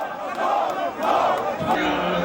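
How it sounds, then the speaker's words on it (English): A large emotional crowd at MKO Abiola's funeral roars and shouts continuously in a dense wash of voices, loud and sustained without pause. "when the body appeared, the crowd went wild with emotion"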